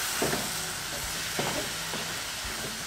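Meat browns in a pan over high heat, giving a steady close sizzle broken by a few scraping stirs at roughly one-second intervals.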